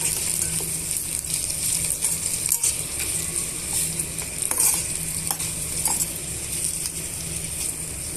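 Chopped tomatoes sizzle and fry in a pan for okra chutney, a steady crackling hiss broken by scraping, clinking stirs close by.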